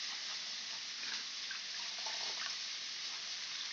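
Tap water runs in a steady, even hiss as fruit is washed in a village home, heard close and unbroken without any talking.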